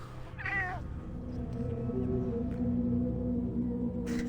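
A pet cat held up close to a microphone gives one short, clear meow near the start, followed by quieter purring or rumbling over a low background hum.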